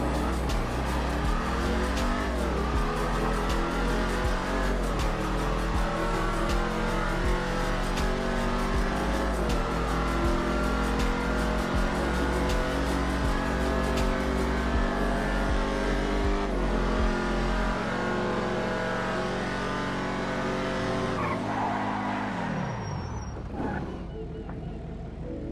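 Ruiner 2000 muscle car in GTA roaring and revving continuously, loud and close, with shifting engine tones and occasional tire squeal, fading near the end.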